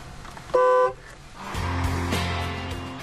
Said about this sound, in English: To avoid startling pedestrians and cyclists when using the horn, there is a second, muffled version.